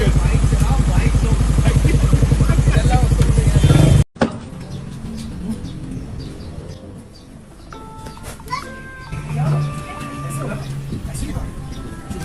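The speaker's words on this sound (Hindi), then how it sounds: "बाइक चलाओ, बाइक चलाओ।" A motorcycle engine runs loud and steady nearby for about four seconds, then cuts off abruptly. People talk afterwards, with faint background noises.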